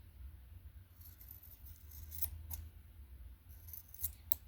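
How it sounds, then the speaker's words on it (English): Scissors cutting a watch band, with a few faint, sharp snips near the end over quiet background hum. "These fucking scissors aren't sharp enough."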